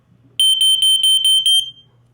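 A Lifesaver smoke alarm sounds alone in a rapid series of about six loud, piercing electronic beeps. A faint low hum sits underneath, and the beeps stop after about a second and a half.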